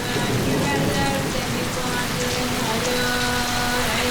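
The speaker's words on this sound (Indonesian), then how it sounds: "Hujan telah turun lagi." Steady rain falling at night, a continuous dense patter on surfaces that stays even and fairly loud throughout, with no other sounds standing out.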